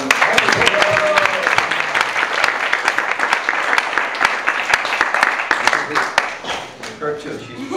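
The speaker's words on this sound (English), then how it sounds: "Let's give these guys a round of applause." An audience applauds steadily, with sharp individual claps standing out, while voices carry on underneath and the clapping thins toward the end.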